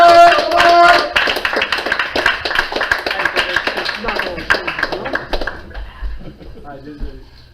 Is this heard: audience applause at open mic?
yes